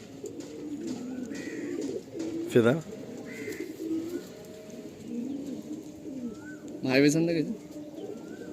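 Madrasi breeder pigeons coo softly and steadily nearby, with a couple of louder sweeping calls standing out, as someone speaks briefly over the birds.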